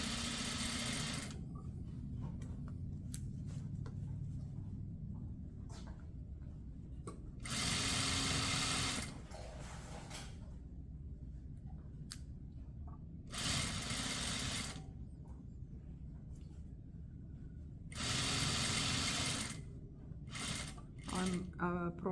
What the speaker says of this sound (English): I'm just aligning my edges and stitching as I go